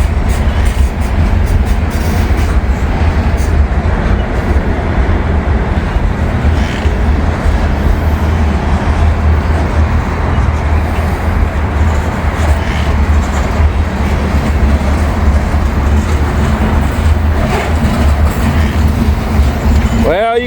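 A freight train, a mixed manifest with Canadian grain hopper cars, rolls steadily past close by, its wheels producing a continuous loud rumble and clatter for the whole stretch with no letup.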